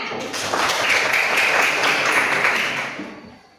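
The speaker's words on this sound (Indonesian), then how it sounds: "Tepuk tangan." A class of students clapping hands together in a classroom, a dense burst of claps that builds quickly, holds steady and loud, then trails off near the end.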